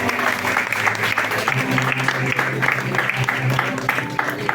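Congregation applause at a church prayer service, dense steady clapping throughout with music and voices underneath.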